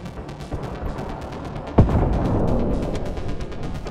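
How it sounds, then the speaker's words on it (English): A single sudden blast in the space-set video game Mass Effect Andromeda, a sharp burst near the two-second mark that rolls into a sustained low rumble over a busy background of game noise. "That was an explosion."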